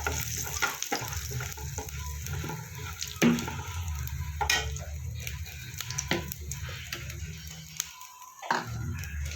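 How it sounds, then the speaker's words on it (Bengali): Whole cumin seeds and whole garam masala crackle and sizzle in hot oil for a vegetarian baby-potato dum, a continuous close frying hiss with occasional stirring knocks and a low kitchen rumble. "ফোড়নে দেবো গোটা জিরে আর গোটা গরম মশলা।"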